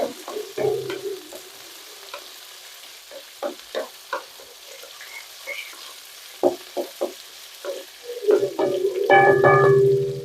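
Cumin, pepper and other spices frying in a pan for a Kongu-style spicy kuzhambu, with scattered scraping stirs and soft sizzles that build into a louder, steady sizzle near the end.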